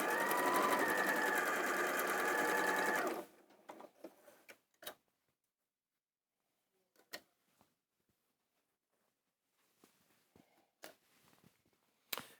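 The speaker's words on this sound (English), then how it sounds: "I'm going to sew 1/4 of an inch down that line" A domestic sewing machine runs steadily for about three seconds stitching a quarter-inch seam along a fabric triangle, then stops, leaving faint handling clicks and small fabric noises.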